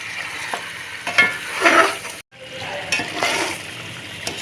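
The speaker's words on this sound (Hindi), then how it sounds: "तो इसको अच्छी तरह से मिक्स करते हैं, यानी कि भूनते हैं" A masala of mutton trotters with stock is stir-fried in a pot, giving a close, crackling sizzle broken by scraping stirs and a brief silent gap partway through.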